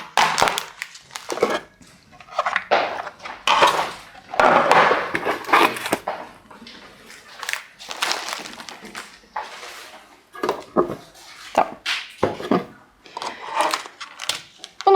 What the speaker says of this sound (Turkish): Bunu buradan direkt kesip içindeki paketi bu kısma, kapağın içindeki kısma yerleştiriyoruz.